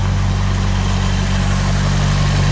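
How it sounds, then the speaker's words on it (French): A Nissan S14 car engine idles with a new exhaust silencer fitted, giving a steady, even low rumble with broad exhaust hiss, loud and close, with no change in revs. "Le moteur tourne très bien."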